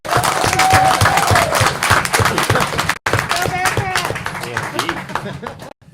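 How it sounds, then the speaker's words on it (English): An audience claps for a first-year teacher being recognized at a school event, loud close clapping mixed with voices and cheers, briefly cut, then resuming before stopping abruptly. "Let's give Hannah a round of applause."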